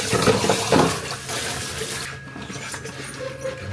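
Tap water runs steadily into a kitchen sink for washing up after a home-cooked meal, a continuous close splashing hiss that softens partway through, with no talking.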